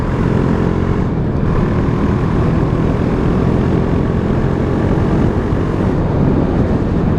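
A KTM 390 Duke single-cylinder engine while riding, a loud, continuous low drone and rumble mixed with wind rush, steady throughout with no voices.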